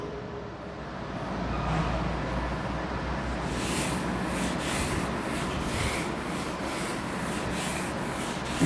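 Continuous rubbing on a board as writing is wiped away during a physics class, a steady scratchy swishing that runs for several seconds with no talking.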